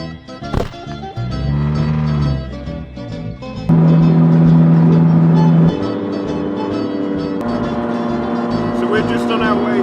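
Loud Abarth engine heard from inside the car while driving to a Brands Hatch Italian car festival, a steady droning hum with pitch shifts as gears change and a sudden jump in revs midway.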